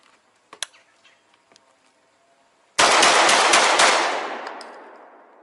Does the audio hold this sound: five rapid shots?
yes